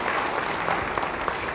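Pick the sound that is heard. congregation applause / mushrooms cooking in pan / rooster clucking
congregation applause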